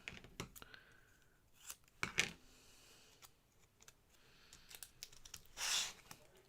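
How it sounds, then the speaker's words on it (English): Fabric scissors cut paper at a craft table, a few short crisp snips scattered through otherwise quiet surroundings, with one longer slicing stroke near the end. "Don't tell anybody I just cut this paper with my fabric scissors."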